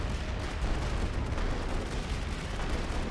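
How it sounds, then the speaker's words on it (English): Dense, continuous battle din from a World War I video game on the Western Front: a rumbling wall of grenade explosions and rifle and machine-gun fire blurs into steady roaring noise without clear individual shots. "see, they're throwing grenades"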